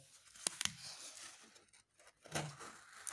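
A worn Buck knife saws through cardboard with scratchy tearing strokes, a couple of sharp clicks near the start and a rougher cut later on.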